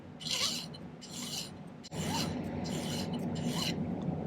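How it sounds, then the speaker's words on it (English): Hand-filing the end of a flattened 14-gauge square silver wire flat, a series of close, rasping strokes in an even rhythm, each push a short gritty scrape with brief pauses between. "let's file one end flat"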